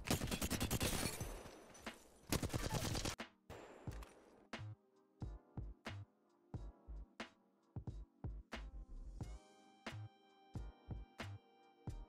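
Weapon fire in Apex Legends while bunny hopping: an opening burst of rapid automatic shots, then a steady series of single sharp gunshots spaced roughly every half second, alone without talk.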